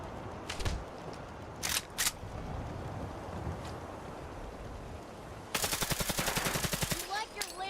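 Gunfire in the video game Fallout 4: a few sharp isolated shots early on, then a rapid burst of automatic fire near the end, with a voice speaking between shots.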